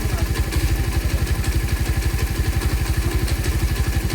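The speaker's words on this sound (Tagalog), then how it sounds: "Mainit na yung makina niya mga gar, pero yung minor niya taas baba" A warm Suzuki Raider 150 Fi motorcycle engine idles roughly and unevenly, a steady close low thumping pulse with some mechanical clatter and no talk.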